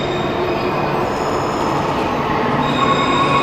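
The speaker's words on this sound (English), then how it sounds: "I think this is a double-deck Shinkansen." A double-deck Shinkansen train pulling into a station, a steady loud rumble with high wheel and brake squeal running throughout, no voices.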